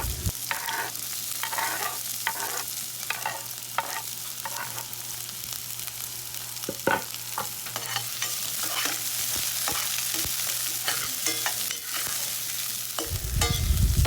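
Onion, garlic and ginger sautéing together in hot oil, a steady close sizzle with intermittent stirring scrapes, no talking.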